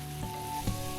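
Broken rice tipped into a hot pot gives a soft, close sizzle with two brief louder hisses as grains hit the fat, quiet overall and lasting only a moment.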